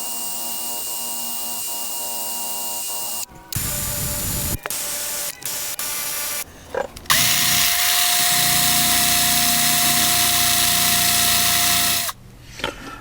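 A power drill works on the bolts of a Mercury 350 35hp outboard motor, whining in several bursts with abrupt stops and restarts, a long loud run near the end, close and without talk.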